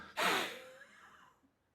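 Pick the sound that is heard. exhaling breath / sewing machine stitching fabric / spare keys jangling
exhaling breath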